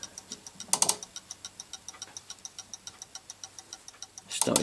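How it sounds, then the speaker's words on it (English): A freshly wound clock ticks extremely fast, a rapid, even run of light clicks close by, briefly masked by two louder bursts of handling noise. "It started ticking extremely fast"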